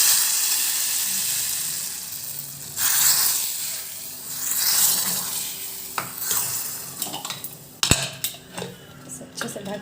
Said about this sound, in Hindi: यहाँ पर ले ली हूँ मैं गाय की घी, और साथ ही है रंग वाली मिर्च होती है ना वो, अब इसे डालते हैं।